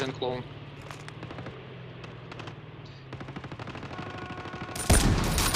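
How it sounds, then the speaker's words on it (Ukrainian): Gunfire in the Call of Duty Mobile video game: repeated bursts of rapid shots over a steady low game hum, ending in a loud, harsh blast of fire, with a player talking intermittently underneath. "Ні, зверху по мені стріляє"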